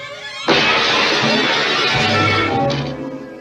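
Window glass shattering with a sudden loud crash, then a sustained bright spray of breaking shards and debris that gradually trails off.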